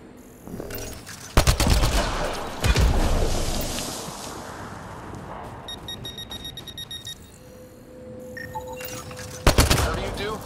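Rapid bursts of automatic gunfire in the sci-fi shooter Mass Effect Andromeda, loud volleys cracking at the start and end with a busy stretch of shots and beeping electronic tones in between.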